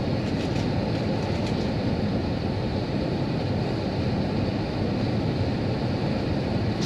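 Inside the cabin of a Virgin Airbus A350-1000 on final approach, a loud, steady roar of engines and airflow rumbles on without a break. There is no talk.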